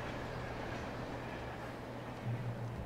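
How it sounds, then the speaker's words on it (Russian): Low, steady rumble of a distant train in the video game Alan Wake, a faint continuous drone with no voices over it. "Ништяк, поезд, это хорошо."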